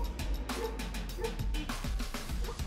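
An Alabai dog barking at a bear, a rapid series of loud, close, deep barks and yips in quick succession with some whimpering between them.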